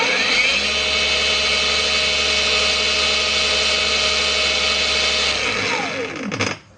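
A Kyoal cordless angle grinder runs at its lowest speed setting with a steady, close, high-pitched whine and motor hum, then switches off and spins down to a stop near the end.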